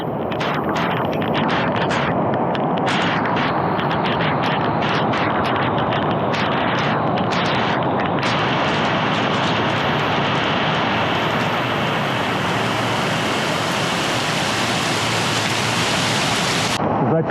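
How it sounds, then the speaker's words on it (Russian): Heavy warm tropical rain pours down on the road to Sihanoukville, Cambodia, in a loud, unbroken roar, dense and steady throughout, with no voices. "Лупанул мощнейший дождь."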